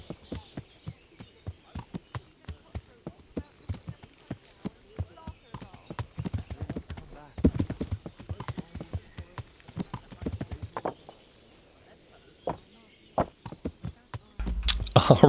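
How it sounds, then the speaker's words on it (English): Horse hooves clip-clopping at a steady walking pace in the medieval game Kingdom Come Deliverance, with faint speech over the hoofbeats and a louder thump at the very end. "Our horse needs a little bit of exercise, so, you know, we've taken our horse for a little walk."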